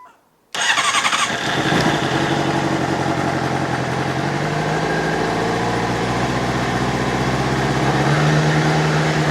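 A motorcycle engine cranks and catches after a brief silence, then settles into a loud, steady running rumble with no talking.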